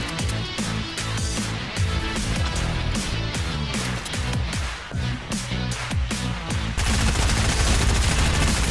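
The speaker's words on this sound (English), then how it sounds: "why is this bot shooting at me?" Rapid bursts of automatic gunfire from a bot opponent in a video game, dense repeated shots in quick rhythm for several seconds before shifting into a sustained loud wash, close and loud with no talking.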